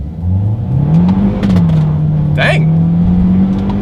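A 2022 Kia Soul pulling away hard from a standstill in first gear using its paddle shifters, the engine droning and climbing in pitch with a quick shift dip, close inside the cabin, with a person speaking briefly over it.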